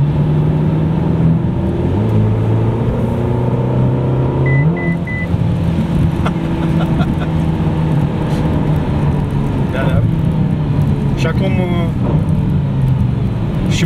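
A Ferrari California T engine downshifting for engine braking in torrential rain on a California desert highway, stepped rises in engine pitch with blips between gears, loud and close beneath someone talking.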